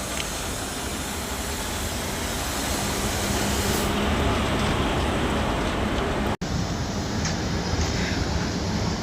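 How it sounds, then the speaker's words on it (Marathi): A long freight goods train passes close by, a loud continuous rumble and rolling clatter of many wagons filling the scene with no talk over it, broken by a brief cut near the end. "ही आहे मालगाडी."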